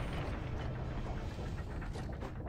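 A steady mechanical churn of grinding gears and ratcheting, clicking metal from an elevator in Gears of War 3, continuous and fairly loud throughout with no voices.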